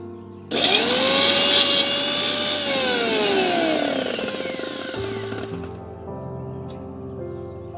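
A mixer grinder whirs loudly as it grinds peas for pakora batter, running steadily for several seconds before cutting off and winding down with a fading hum.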